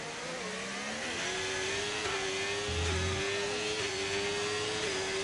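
An F1 race car engine in a racing game at the Canada round, a steady high-pitched whine sustained throughout, shifting slightly in pitch as the car holds speed.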